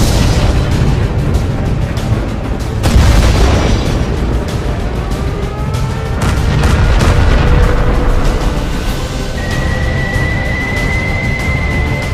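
Artillery fire in a tank cartoon, heavy booms and bursts over a constant rumbling battle din, loud throughout, with a sharp blast near the start and a thin whistling tone toward the end.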